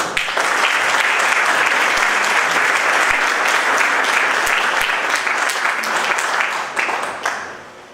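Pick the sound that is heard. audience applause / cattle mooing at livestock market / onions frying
audience applause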